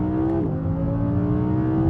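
A naturally aspirated Audi R8 engine producing 610 horsepower revs hard toward 8,500 RPM, its loud, continuous, rising howl filling the whole two seconds up close.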